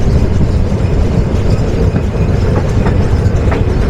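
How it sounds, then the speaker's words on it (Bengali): The Nilsagar Express rolls into Joydebpur station with loud, close clickety-clack of wheels over rail joints and a dense rumbling roar, faint wheel squeal mixed in, steady throughout. "নীলসাগর প্রবেশ করছে যাত্রাবিরতির দ্বিতীয় স্টেশন জয়দেবপুরে"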